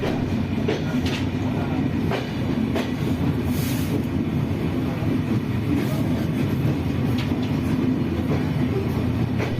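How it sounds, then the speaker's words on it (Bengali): A passenger train pulling out of Jashore station on the Jashore to Kushtia line, with a loud, steady rumble and rhythmic clicking of the wheels on the rails, heard up close from inside the carriage. "আমার ট্রেনটি যশোর স্টেশন ত্যাগ করলো"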